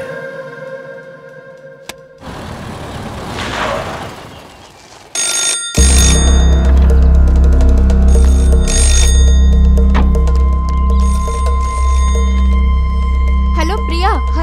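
A telephone bell rings in repeated bursts, clear and fairly close, over a background of music and some voices.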